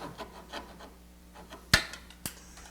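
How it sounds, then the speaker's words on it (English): A hand saw with rip teeth makes short rasping strokes across wood while cutting a dovetail for a serving tray, ending in two sharp knocks, close and fairly quiet with no talking. "I'm cutting across with actually a rip saw tooth. Now I'm going to let it drop in. And straight down."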